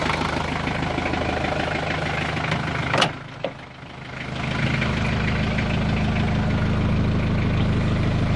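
A Lublin delivery van's diesel engine idles with a steady low rumble, then gives a sharp clunk and briefly drops away before settling back into a continuous idle.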